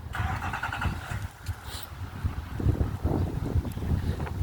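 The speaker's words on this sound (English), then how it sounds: "this cooler air feels so good, along with the wind" Wind gusting outdoors during a walk with a dog, a steady low rumble and buffeting across the microphone that swells and eases, loudest in the second half, with no talking.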